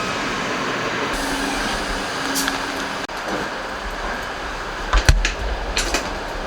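A train in the Netherlands rolls along with a steady rumble and faint wheel squeal, occasional clacks and thumps from the carriage, heard from inside.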